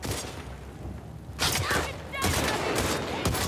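Enemy gunfire in The Last of Us Part II: bursts of loud, rapid shots, one around the middle and a longer run near the end, over game ambience with some voice.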